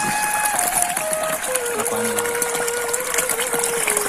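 Spring water near a shrine at Hadol village pours in a steady, loud rush that fills the whole stretch without a break.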